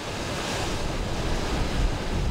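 Ocean waves break and wash onto Playa de Garcey on Fuerteventura, near a shipwreck, with a constant loud roar of surf mixed with wind buffeting the microphone.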